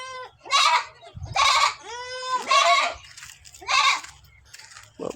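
Young goats on a farm bleat loudly in several separate calls, close by, with short gaps between them and no talk over them.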